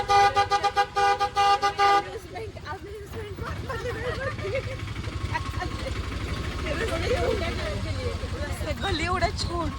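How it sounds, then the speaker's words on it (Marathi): An auto rickshaw ride through a narrow lane in Jaisalmer, with a sustained harmonic horn toot in the opening two seconds, then a steady engine rumble and street noise under people talking. "He rickshaw ride."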